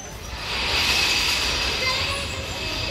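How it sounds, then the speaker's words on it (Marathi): A mini train at an amusement park rumbles along steadily, with a broad rolling rush and faint high metallic squeal tones running throughout the few seconds. "तिकडे ट्रेन आहे, मिनी ट्रेन एंट्री."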